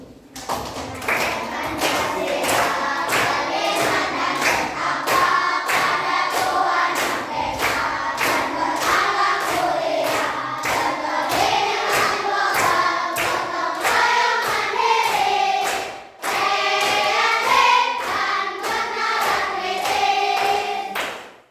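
A classroom of schoolchildren in an Indonesian primary school claps together in a steady rhythm, loud and close, with sharp repeated hand strikes and children's voices chanting along throughout, broken by a brief pause near the end.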